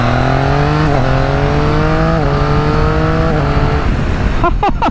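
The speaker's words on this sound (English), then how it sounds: "Look at that quick shifter noise," Ducati V4 motorcycle accelerating hard through quick shifter gear changes, a loud continuous engine note rising in pitch and dropping sharply at each of several upshifts, with road and wind noise, then a brief fade as the engine backs off.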